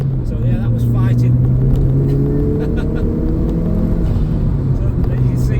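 A 2003 Ford Focus RS MK1 with 93k miles pulls hard in second gear, its engine a loud, steady rising drone with climbing tones, continuous and close, with a voice faintly present underneath.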